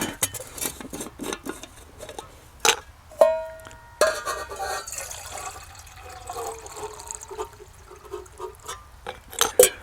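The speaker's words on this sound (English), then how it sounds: "fill this thing up with water" Water poured into a pot for a cheap homemade backpacking stove, with irregular splashing and clanks of metal cookware close by, a few sharp knocks standing out over a steady wet wash.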